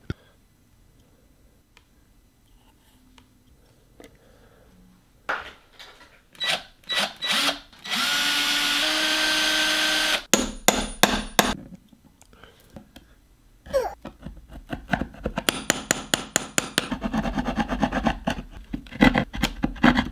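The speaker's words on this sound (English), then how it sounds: "I've been hammering and trying to chisel this piece of wood" Someone hammering and chiseling a piece of wood by hand while building a guitar, heard as irregular sharp knocks and scraping strikes with some tool noise, coming in bursts that grow denser toward the end.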